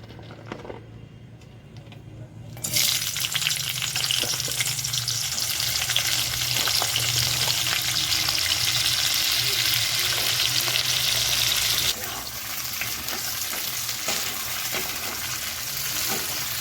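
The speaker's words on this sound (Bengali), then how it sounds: "মাংস ভাজা কমপ্লিট হয়ে গেছে। ওই তেলেই পেঁয়াজগুলো দিয়ে দেব।" Onions go into the hot oil left from frying chicken for chili chicken, setting off a loud, steady sizzle with stirring scrapes that continue evenly before easing slightly near the end.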